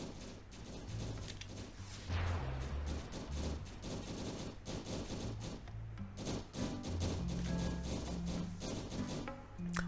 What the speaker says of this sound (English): Concussive missile, away!